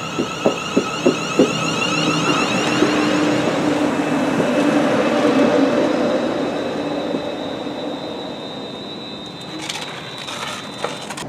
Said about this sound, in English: My train is arriving now, so I'm going to jump on that train and head into Birmingham.